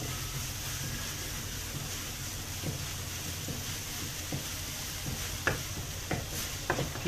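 Food sautéing in a hot pan for a spicy tuna and sardine epok-epok filling, a steady sizzle under faint stirring and occasional clinks of a utensil, with no talking.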